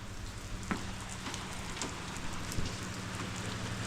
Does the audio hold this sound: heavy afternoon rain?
yes